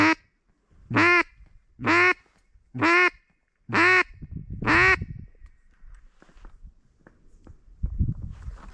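Ducks quack in a series of five loud, evenly spaced calls close by during a foggy duck hunt, followed by fainter rustling and low background noise.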